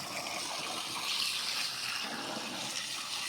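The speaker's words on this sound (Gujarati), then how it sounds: "એમાં પાણી ચાલુ કર્યું" Water gushing steadily from a well pipeline into a temple garden, a continuous broad rushing flow at moderate level throughout, with no voices.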